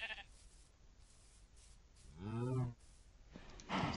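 A sheep in a farming video game bleats once with a wavering, nasal cry in the middle, over a soft background hiss. Brief bursts of noise come near the start and end.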